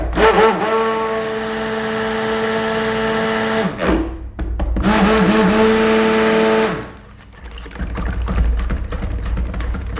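A blender whirs loudly and steadily, mixing goat milk soap batter with clays and natural colours to trace, cutting off briefly, restarting for a few seconds and stopping again, with handling noises at the end.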